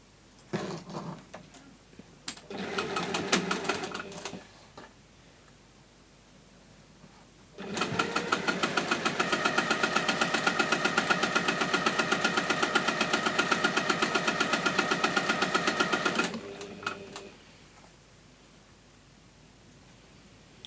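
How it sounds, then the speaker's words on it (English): A domestic sewing machine stitching a simple plastic pencil case: two short bursts of stitching, then a long fast steady run of about nine seconds, close and loud, with quiet handling between runs and no speech. "you can just sew these one after the other"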